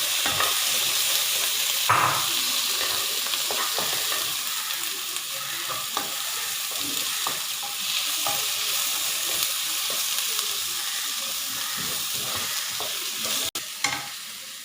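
Chopped tomato sizzles steadily in a hot pan while a utensil stirs and scrapes it in scattered clicks, the frying hiss constant and fairly close throughout.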